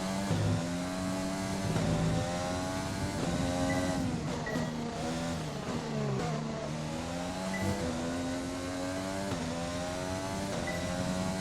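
Race car engines in the F1 2020 video game at the French Grand Prix, a loud, continuous high-pitched whine that rises and falls through gear changes over about eleven seconds, with no one talking.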